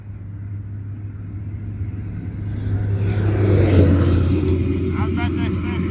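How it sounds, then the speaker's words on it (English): A big dump truck drives past on the road, its engine rumble swelling from a distance into a loud, close pass before trailing off, with some rattling and clinking near the end. "Here comes a big truck."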